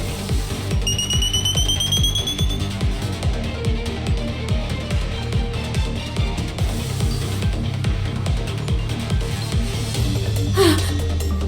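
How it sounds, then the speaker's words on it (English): A blaring alarm sounds in the sci-fi action game Goddess of Victory: Nikke during an excavation bomb scene, with a repeating pulsing tone under dense game music and effects, loud and continuous throughout. "Huh? What's that sound?"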